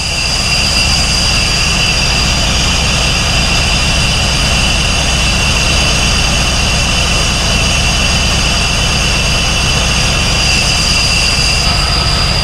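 1996 Pontiac Firebird engine idling with a misfire, a loud steady roar heard up close for the whole stretch, with no talking.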